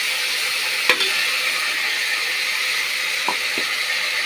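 Ginger, garlic and green chili paste frying in a pan gives a loud, steady broadband sizzle throughout, broken by a few sharp spoon taps and scrapes, with no one speaking.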